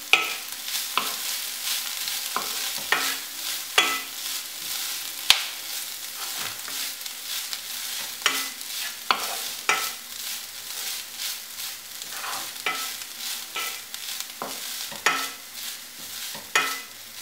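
Minced chicken filling with curry leaves fries in a pan, mixed with a spatula. A continuous sizzle runs under frequent scraping and clacking strokes, close and fairly loud, with no voices.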